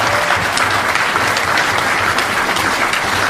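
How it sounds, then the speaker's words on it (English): A Comic-Con panel audience claps steadily, loud and dense, a sustained round of applause with no voices above it. "Give a warm round of applause for Mr. Josh Olson, the writer of History of"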